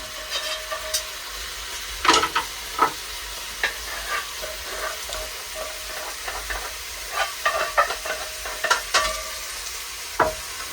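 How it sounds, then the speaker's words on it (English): Meat and its juices are stirred in a pot over a woodstove, giving a steady sizzle and hiss with scattered scraping and clinking stirring strokes, close and moderately loud. "I'm going to put in the meat, all the juices in it."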